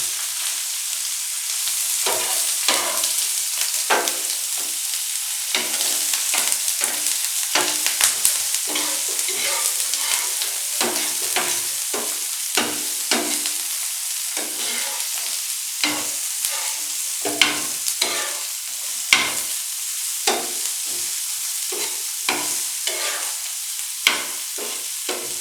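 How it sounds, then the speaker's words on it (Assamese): Paneer and onion frying in a pan for a paneer roll, with a constant soft sizzle and repeated scraping taps of a spatula stirring at an uneven rhythm, close and alone without talk. "পনীৰটো দি দিছোঁ পিঁয়াজটো দি দিছোঁ অলপ এইটো ফ্ৰাই কৰি ল'ব"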